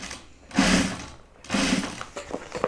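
Sewing machine stitching a zip bag seam, two distinct close bursts of rapid motor-driven stitching separated by a short pause, followed by light handling clicks.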